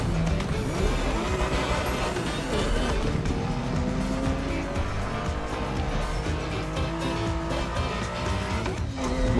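A racing car in a driving game roars steadily at high revs with tires squealing through corners, engine note rising and falling, loud and continuous.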